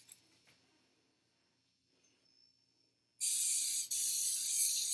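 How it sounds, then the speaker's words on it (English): After a few seconds of near quiet, a loud, close spray of cooking oil onto a pan hisses for nearly two seconds with a brief break midway. "spray this pan a little."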